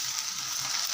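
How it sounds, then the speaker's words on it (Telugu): Tomatoes hit a hot pan for Rayalaseema uggani, giving a steady close sizzling hiss throughout this short moment. "ఇంక ఇప్పుడైతే టమోటాలు అయితే వేస్తున్నాను"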